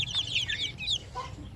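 Native chickens on a small farm cluck in a quick series of high, close calls, with a softer cluck near the end and faint background noise.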